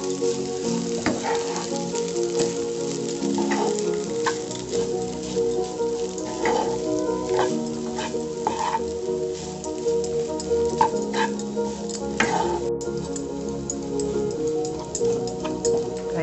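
Veg fried rice with masala and vegetable pieces being stirred in a pan, steady sizzling with repeated scraping and clinking of the spoon against the pan, close and continuous with no talking.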